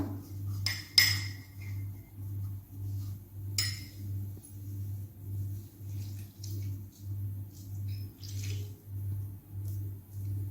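Orange juice pedicure scrub stirred in a bowl, with a few light clinks of a utensil against the dish over a steady, pulsing low hum; quiet and close, no talking.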